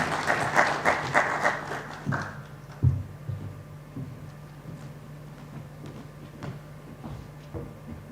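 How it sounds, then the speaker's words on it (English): An audience claps together at a cybersecurity week event in Africa, loud and steady for about two seconds before the applause fades into scattered claps and room noise. "give a round of applause as she comes."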